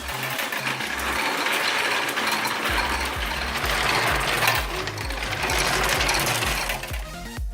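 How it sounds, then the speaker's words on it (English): A marble run machine carrying about 150 marbles up a track 24 inches high gives a continuous busy mechanical clatter and whir, steady and close, with no speech. "For optimal performance, it requires about 150 marbles, which, like cars on an F1 track, pass on a very impressive path"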